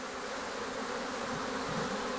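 Steady, hissing drone of many African honey bees, a continuous buzzing mass heard at moderate distance with no pauses or speech.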